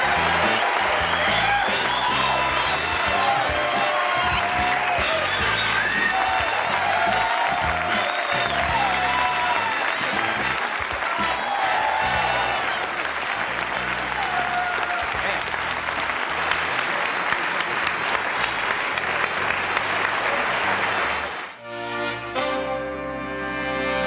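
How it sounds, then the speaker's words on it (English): A television studio audience cheers and applauds a guest on The Johnny Carson Show, loud sustained clapping with whoops and a band playing over it, ending abruptly near the end. "I'm humbled by that applause."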